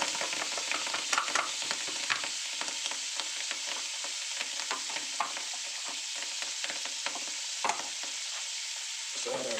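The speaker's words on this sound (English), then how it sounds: "Let's add our vegetables right there." Vegetables hit a hot frying pan already seasoned with salt and pepper for Tuscan salmon, giving a steady close sizzle with scraping stirring clatters throughout, no talking.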